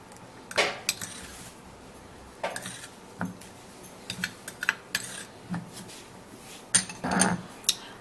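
A spoon clinks and scrapes irregularly against a small dish while stirring a baking soda mixture, sharp close taps scattered over a quiet background with no talk.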